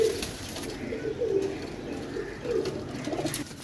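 Pigeons cooing in repeated soft, low rounded calls near a night-time pigeon catch under lights in Sarai Alamgir, steady and close with faint background hum, no talking.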